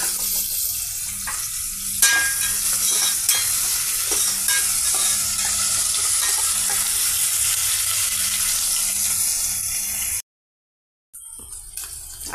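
Large onion pieces frying in a big ladle of oil in a pot for a peanut and potato curry, a steady loud sizzle with occasional stirring scrapes, briefly cut out near the end.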